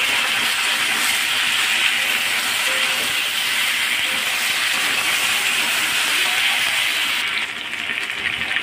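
Vegetable curry with spices and stems fried in a pan gives a steady, loud, close sizzle and hiss that carries on unbroken, then drops a little near the end, with no talking.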